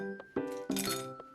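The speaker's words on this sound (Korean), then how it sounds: "시원하게 얼음도 넣어주면" Ice cubes clinking into a bowl of cold fire-noodle kimchi bibim guksu, several close, bright glassy clinks over about a second with no talk.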